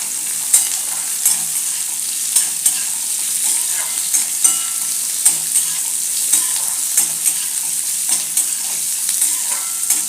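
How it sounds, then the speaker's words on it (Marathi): Chopped onion sautéing in a pan for chole, a steady close sizzle of frying with repeated soft scrapes and taps of stirring running throughout, no voices. "कांदा खूप भाजू नका, फक्त थोडा आपल्याला परतून घ्यायचा आहे, थोडा मऊ होईपर्यंत।"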